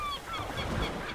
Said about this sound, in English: So now we're hearing the birds